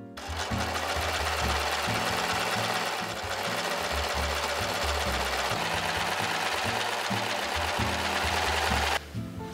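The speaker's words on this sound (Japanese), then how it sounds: "最後、袖と裾にロックミシンをかけていきます。" An overlock sewing machine (serger) finishes the sleeves and hem of a handmade blouse, running in a loud continuous whirring drone with fast mechanical stitching, briefly pausing just before the end, with no one speaking.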